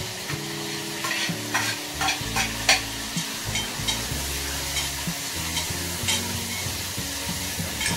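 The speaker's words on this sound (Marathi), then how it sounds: "आता हे टमाटर टाकते याच्यात" Tomatoes and chillies frying in oil in a home kitchen, a soft steady sizzle with repeated scraping stirs and clinks of a spoon against the pan, and no one speaking.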